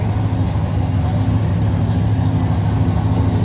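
A 1969 Chevy truck engine idles steadily at a truck nationals cruise show, a constant low rumble held close and loud for the whole stretch with no breaks.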